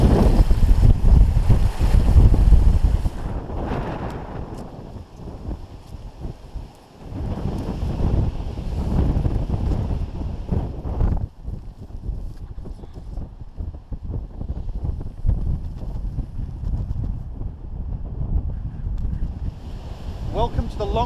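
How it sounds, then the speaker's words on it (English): Strong wind blowing across open moorland, roaring and buffeting the microphone in heavy gusts that rise and ease over time, with brief quieter lulls. "The wind's starting to get up again now."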